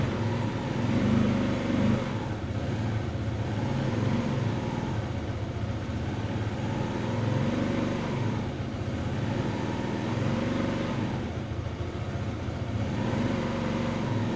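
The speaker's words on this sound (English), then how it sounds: "I'm giving it a little bit of throttle to make sure it stays going during the warm-up process." A Janus 250 motorcycle engine runs steadily through its warm-up with a little throttle held on, a continuous close drone with gentle swells in loudness.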